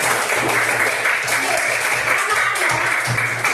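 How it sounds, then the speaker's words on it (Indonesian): Audience clapping in a classroom-style lesson setting, a continuous dense patter lasting the whole stretch with a low hum underneath and no voices. "Tepuk tangan buat kita semua."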